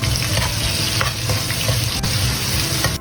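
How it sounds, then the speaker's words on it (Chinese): Scallion, ginger, garlic and Sichuan pepper stir-fry in hot oil for big plate chicken, a loud, close, continuous sizzle with scraping strokes of a spatula throughout. "油热放葱、姜、蒜、麻椒炒香"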